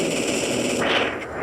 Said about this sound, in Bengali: এখন আমরা এখান থেকে একটা ডিসার্ট নিয়ে নিলাম হেডশট মারার জন্য